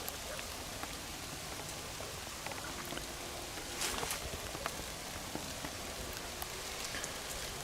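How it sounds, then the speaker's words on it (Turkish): Steady rain falling on surfaces, a dense hiss with scattered sharper drops, constant and close, no talking. "Bu arada iyi de bir yağmur geliyor."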